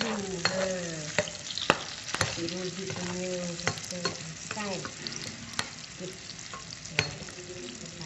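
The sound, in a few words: stirring and frying food in a pan for nasi ayam penyet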